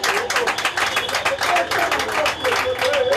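A crowd claps in a burst of applause after a line from President Félix-Antoine Tshisekedi's speech, loud and dense, rapid overlapping hand claps with faint voices mixed in.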